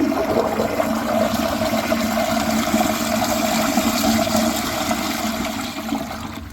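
A Standard Valvo blowout toilet flushes with a loud, steady rush of water, close and continuous, easing off slightly toward the end.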